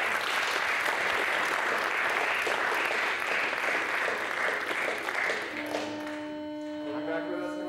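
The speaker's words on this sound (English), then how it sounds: "let's give Ridenour a huge round of applause" An audience claps loudly and steadily for trumpeter Brandon Ridenour at a brass workshop, the dense applause fading out before a sustained brass tone and brief voices.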